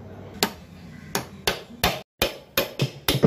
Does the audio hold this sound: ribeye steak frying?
no